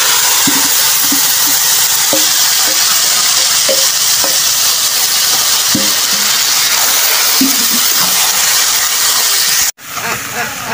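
Bottle gourd vegetables with chopped onion and garlic frying in oil make a loud, continuous close hiss with faint stirring knocks, cutting off abruptly near the end.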